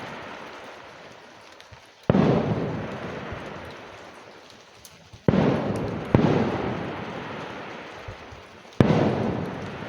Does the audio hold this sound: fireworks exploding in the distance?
yes